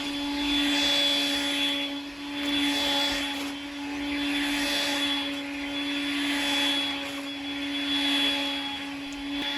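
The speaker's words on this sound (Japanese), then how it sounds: "よしひこはいつも掃除機のギリギリを攻めてくる" A vacuum cleaner running steadily during house cleaning, with a loud continuous motor whine and hum that swells and fades gently as it moves back and forth, alone without talking.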